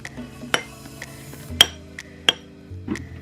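Spoon stirring and clinking in a bowl of food partway through microwave cooking, a few sharp close clinks among softer scraping, no talk.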